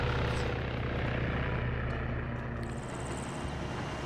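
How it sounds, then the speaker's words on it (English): Helicopter in a military video game, a loud, close, steady rotor thump and engine drone that eases off slightly toward the end, with no voices. "These guys might not hear that chopper"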